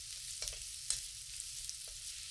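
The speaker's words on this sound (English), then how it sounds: "When the butter has melted, add the shallots and chopped garlic. Occasionally stir for 2 minutes." Shallots and chopped garlic fry in melted butter in a pan, giving a steady, fairly quiet hiss of sizzling with a few light stirring scrapes, close by and without voices.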